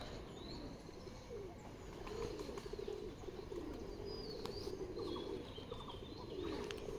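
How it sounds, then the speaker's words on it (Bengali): Pigeons being fed on a rooftop coo softly, low repeated calls with a few light chirps, faint against a quiet outdoor hum. "এখানে কিন্তু কবুতর পালা হয় আর এই ছাদে কবুতরকে খাওয়ানো হচ্ছে কত কবুতর"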